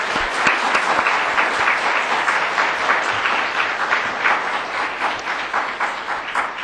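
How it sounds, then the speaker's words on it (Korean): Sustained applause from a graduation-day audience at a King James Bible seminary degree ceremony, dense and steady clapping filling the room for several seconds with no voices over it. "여러분 박수 한번 해주십시오."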